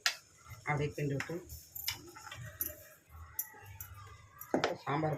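A spoon scrapes and clinks against a cooking pot while stirring sambar with lentils, several short metallic knocks and scrapes up close, fairly quiet.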